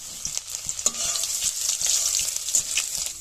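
Bay leaf, dried red chilli, five-spice seeds and grated ginger sizzle steadily in hot mustard oil, close and fairly loud, with a few stirring scrapes against the pan and no talking.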